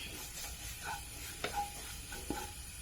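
Faint stirring and light sizzling as ingredients and chicken masala are sautéed in a pan while cooking squid, with a few soft clinks of a utensil.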